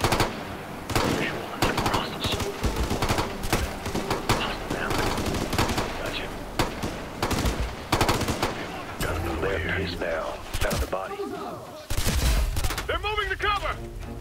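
Rapid assault rifle bursts crackle through a firefight in the video game Ghost Recon Future Soldier, loud and dense automatic fire with brief gaps, later mixed with radio chatter and other battle sounds.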